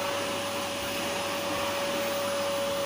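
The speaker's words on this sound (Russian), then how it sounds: "Наше утро начинается с пылесоса." A household vacuum cleaner runs steadily and loudly throughout, a constant close whine with a fixed high tone over broadband airflow noise, with no voices.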